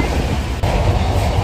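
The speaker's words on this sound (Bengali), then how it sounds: "130 কিমি/ঘন্টা দৌড়াচ্ছে ট্রেন আমাদের, তার ছোট্ট একটা ঝলক আপনাদের সামনে" Vande Bharat Express train running at about 130 km/h, a steady loud rumble of wheels and carriage noise heard from inside the coach, continuous throughout.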